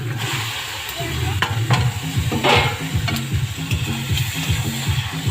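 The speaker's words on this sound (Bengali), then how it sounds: "এবার মাংসটাও আমি আস্তে আস্তে ভালো করে কষিয়ে নেব" Country chicken meat stir-fried in spice paste, with a close, steady sizzle and rhythmic spatula scrapes against the pan throughout.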